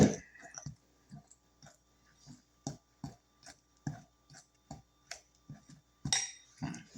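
Sugar and melted butter stirred in a mixing bowl for pound cake batter, heard as a steady run of close, light clicks and clinks of a utensil against the bowl, roughly two per second.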